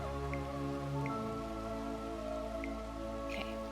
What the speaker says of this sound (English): I've just done is popped 6 rain clouds over this lake, and the rain clouds are filling the lake back up